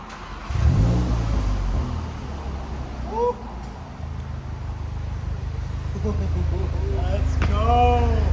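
A 2025 VW Golf GTI with a 2.0L turbo engine and straight-pipe exhaust idles roughly, then gets several short throttle blips that rise and fall, with people talking nearby.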